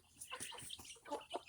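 A chicken clucks in a short, faint burst of quick, sharp notes close by, with no talking.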